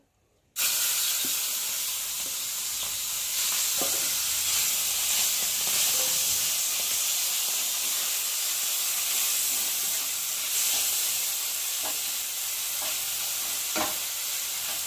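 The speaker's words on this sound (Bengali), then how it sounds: "তাওয়াতে তেল দিয়েছি, একটু চিংড়ি মাছ রয়েছে দেখো সেটা একটু ভেজে নেব" Shrimp fry in hot oil on a griddle pan with a continuous loud sizzle and hiss, broken by occasional clinks of stirring.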